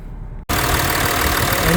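A used Audi A8 with about 57,000 km has its engine running at idle during an inspection, a steady, close mechanical hum after a brief dip at the start.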